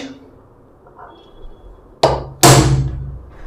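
Two sharp metallic strikes ring out close by as a hammer hits a center punch on metal, the second louder with a lingering ring, after a brief quiet lead-in.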